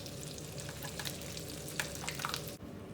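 Bacon-wrapped sausages sizzle and crackle steadily in a hot pan, with a few sharper pops along the way before the sound cuts off near the end.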